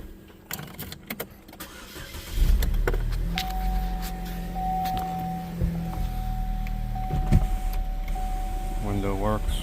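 A 2011 Chevrolet Malibu's power window motor whirs steadily for several seconds after a freshly reassembled door is refitted, with the engine starting and idling nearby and brief clicks from the switch.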